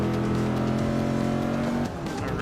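A race car engine in the Forza 6 Apex racing game drones loudly at high revs while overtaking another car, then shifts and drops in pitch near the end.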